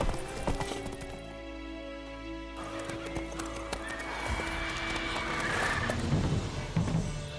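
Hooves of Roach, Geralt's horse in The Witcher 3: Wild Hunt on PS5, clip-clop at a steady walking rhythm, with a neigh and whinny rising over a background music bed.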